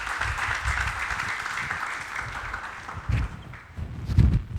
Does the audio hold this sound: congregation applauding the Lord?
yes